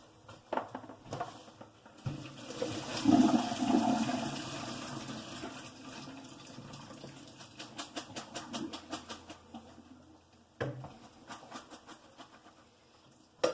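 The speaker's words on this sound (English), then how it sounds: "then you go drain your pasta" Cooked spaghetti water drained into a sink, a sudden gushing rush that swells and then fades into patters and drips, with a few knocks before and after.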